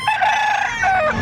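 A rooster crows loudly at close range at a busy Tuesday chicken auction at the Padre Garcia livestock market in Batangas, a single sustained call.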